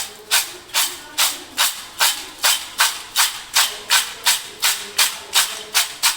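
Salted kara boondi snack mixed with peanuts being stirred, a steady series of about fifteen evenly spaced scraping strokes, close and clear with no talk.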